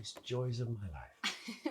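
A short, sharp sneeze bursts out right after a stretch of calm speech in the news-broadcast video game Not For Broadcast, followed by a brief catch of breath.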